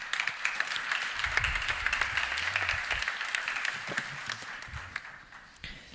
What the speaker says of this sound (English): Please give all of them a warm applause so they feel welcome